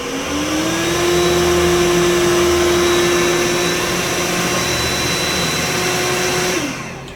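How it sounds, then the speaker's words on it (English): A Samsung Powerbot R7040 robot vacuum running in turbo full-suction mode, a loud steady motor whine that spins up quickly, holds for several seconds and then winds down, with no talk. "I have it in the turbo mode, so the full suction mode, and if I turn it on here,"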